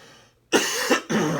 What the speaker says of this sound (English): Sorry, I'm trying to kick a little cough every year around this time.